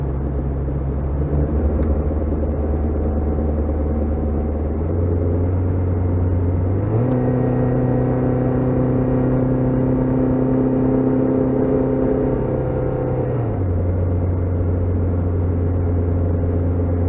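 A car on a test drive with poorly balanced wheels, its steady engine and road rumble holding throughout, shifting in pitch a few times as the speed changes, near and continuous with no talk.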